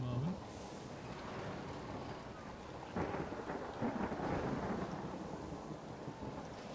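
Rumbling thunder and steady rain from a Planet Coaster 2 theme park entrance decorated in a stormy style, with a fresh roll of thunder midway; a person talks over the storm.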